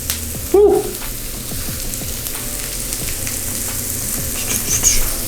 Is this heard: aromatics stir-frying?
yes